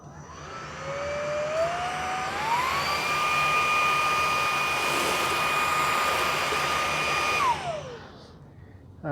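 An Oraimo S2 stick vacuum runs on high over medium pile carpet, a steady close whining motor roar whose pitch climbs early, holds level, then drops away as it powers down near the end, with no talking.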